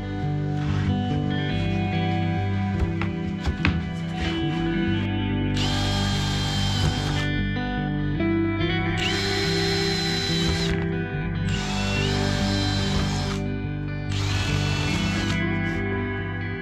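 A power drill drives sheet metal screws into a metal lip in several bursts of about two seconds each, repeated four times, with a steady hum of work noise underneath and no talking.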